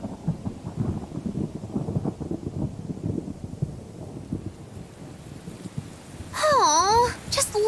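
Rain and thunder in the Tales of Berseria video game: a low, rolling rumble over steady rain patter, then a brief swooping tonal effect near the end.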